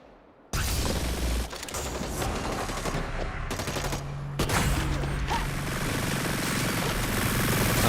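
Rapid bursts of automatic gunfire crackle in a shooter video game played on PS4, dense and loud after a sudden start, with brief gaps between volleys.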